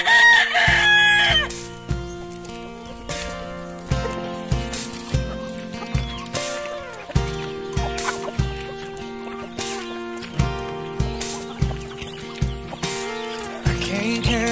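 Farmyard chickens being fed coconut, with clucking and repeated rooster crowing over a steady rhythmic background beat of music.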